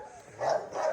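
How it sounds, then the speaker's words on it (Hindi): Gulabo, a female dog, barks at another female dog, two short nearby barks spaced a moment apart, loud and alone. "गुलाबो यहाँ से बुल्ली फीमेल पर भौंक रही है"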